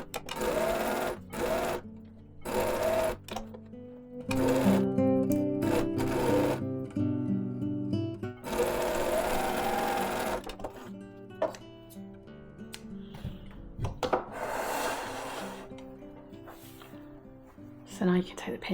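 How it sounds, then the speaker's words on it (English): A sewing machine runs in bursts of long, loose tacking stitches through fabric, its loud mechanical whir starting and stopping repeatedly, close and dominant. "if you've got an adjustable stitch on your sewing machine, just turn it to a larger stitch"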